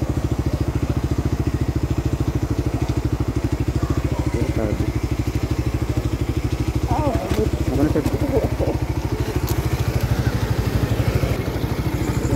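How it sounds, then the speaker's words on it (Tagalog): A motorcycle engine runs steadily and close by throughout, with a dense, even rumble that never drops off, and faint talk sits underneath. "sunubukan ko ulit at umandar na nga yung motor ko"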